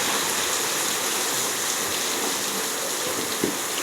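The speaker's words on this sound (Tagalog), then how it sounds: "Yeah, it's raining." Rain falling steadily, a dense even hiss with no break across the whole stretch.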